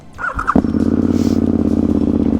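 A 2008 KTM 990 Super Duke rides on gravel. After a brief squeak the engine pulls in with a loud, steady, pulsing drone close to the microphone.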